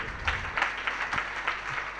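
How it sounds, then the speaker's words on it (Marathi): A devotional kirtan gathering welcomes a guest with applause: a steady, moderately loud wash of crowd clapping with a few rhythmic claps peaking through, no voices over it. "आपण सर्वांनी टाळी जोरात वाजवून स्वागत करायचं."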